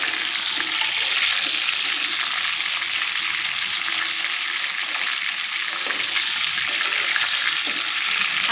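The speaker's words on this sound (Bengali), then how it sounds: "এই অবস্থাতে বারবার একটু নেড়ে দিতে হবে যাতে মাংসটা চতুর্পাশ ভালোভাবে" Broiler chicken pieces fry in a pan and are stirred over and over, giving a steady, loud, close sizzle with light scraping, no talk.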